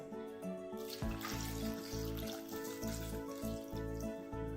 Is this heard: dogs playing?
no